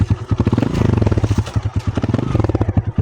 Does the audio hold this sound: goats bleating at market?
no